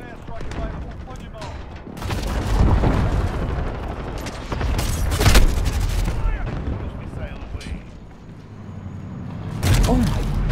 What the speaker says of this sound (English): Precision airstrike available